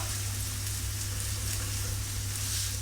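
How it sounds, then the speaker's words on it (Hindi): Steady sizzling of chopped onion frying in a pan, a dense crackling hiss with a low hum underneath, continuous and fairly close. "ये इसमें ऐड कर दूंगी और इसको ट्रांसलूसेंट होने तक फ्राई करेंगे"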